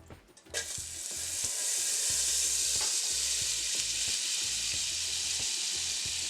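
A heaping teaspoon of butter sizzles loudly and steadily in a pan while cornmeal cou cou is being made, with a few faint utensil clinks under the continuous frying hiss and no talking.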